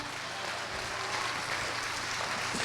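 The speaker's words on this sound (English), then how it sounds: "let's give the college recipients another round of applause" Steady applause from a sizeable audience at a college graduation ceremony, a continuous even wash of clapping heard from a distance, with no voices over it.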